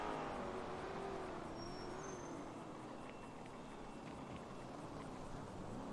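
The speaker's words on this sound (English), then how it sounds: "Don't know why their engines are so loud." Car engines in a NoPixel role-play game, a continuous loud, steady drone of running engines and road noise with no break, mid-distance and even throughout.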